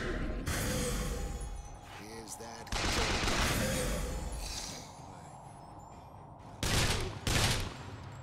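Gunfire in Bioshock Infinite: Burial at Sea, several loud bursts of rapid shots broken by short gaps, with clanking mechanical noises and game effects mixed in, fairly close and dense.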